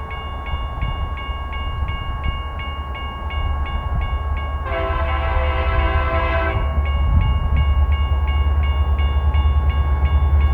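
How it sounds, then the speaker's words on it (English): Short BNSF local freight train with two Jeep locomotives passing along the Columbia River Gorge, a steady low rumble of wheels with a loud blast of the air horn in the middle, the rumble continuing afterward. "This train turned out to be a short local with 2 BNSF Jeep locomotives, no doubt heading west back towards Vancouver Yard."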